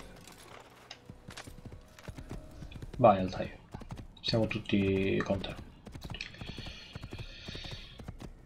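Hooves of a black horse galloping in the Assassin's Creed video game, a quick clopping burst that comes and goes in the middle, with someone speaking over the game sounds and a brief electronic tone near the end.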